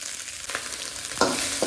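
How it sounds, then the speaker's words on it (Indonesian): Nasi goreng being stir-fried in a pan, with a soft continuous sizzle and a few short scraping strokes of the spatula, fairly quiet and without voices. "ini kita gongseng dulu sampai benar-benar rata"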